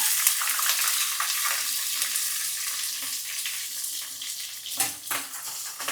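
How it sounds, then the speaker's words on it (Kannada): Chopped onion and slit green chillies frying in oil make a bright, continuous close sizzle with occasional stirring scrapes, steady throughout without speech. "ಜೊತೆಗೆ ಒಂದು ಎರಡು ಹಸಿಮೆಣಸಿಕಾಯನ್ನು ಸೀಳ್ ಸೀಳಿದ್ದೀನಿ ಜೊತೆಗೆ ಹಾಕ್ತಾಯಿದ್ದೀನಿ"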